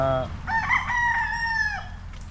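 A rooster crows loudly and clearly in one long drawn-out call, with hens clucking faintly in the background.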